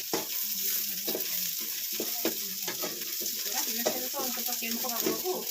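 Onions with spices frying in a pan, crackling sizzle with repeated stirring scrapes and spoon knocks at a close, even level, with a little speech.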